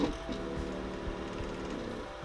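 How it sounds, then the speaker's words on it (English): A failing Y-axis stepper motor in a BiQu 3D printer, a faint grinding, buzzing hum with irregular knocks and tonal whine, steady and quiet throughout. "That's the sound of a failing stepper motor,"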